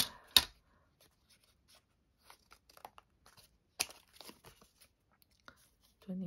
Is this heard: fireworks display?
no